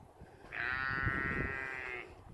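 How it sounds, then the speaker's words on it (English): A single sustained sheep bleat, loud and close, wavering steadily for about a second and a half over faint background noise, with no talking. "There, that's a sheep, that's not a cow."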